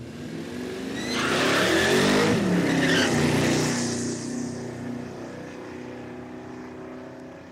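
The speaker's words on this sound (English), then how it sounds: "Loving the blower though on the Mustang." A supercharged Mustang drag car at an Australian eighth-mile drag event roars past, building to a loud engine howl, then fading into the distance.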